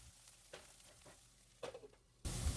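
Ground spice powder stirred into bitter gourd and onions frying in a pan over medium heat: a soft, close sizzle with a few scraping stirs, then a sudden louder burst at the very end.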